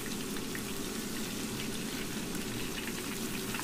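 Curry leaves fry in hot oil for chicken pakoda, making a soft, continuous crackle and fizz that stays quiet and even, with no talking.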